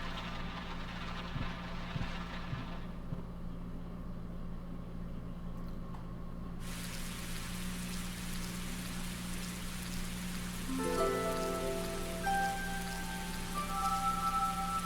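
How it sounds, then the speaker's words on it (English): Steady rainfall in the video game Tales of Graces f, a constant hiss over a low background hum, with soft tonal music entering toward the end. "perhaps it's because of this rainy weather"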